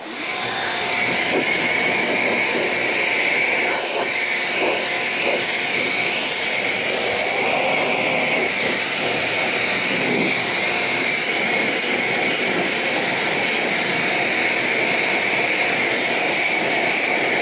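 Pressure-washer water spray blasting dirty car wheels during a first rinse after a foam pre-treat, a steady loud hiss and roar held throughout with no talk.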